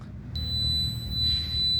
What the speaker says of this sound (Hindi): ये देखिए आप सुन पा रहे होंगे, ये बीप साउंड आ रही है।